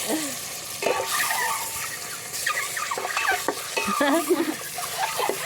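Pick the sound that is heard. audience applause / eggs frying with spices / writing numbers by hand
eggs frying with spices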